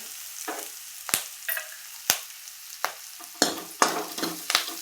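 Curry leaves crackle and sizzle in hot oil with reddened garlic, with sharp spattering bursts and stirring scrapes coming every second or so, close and fairly loud.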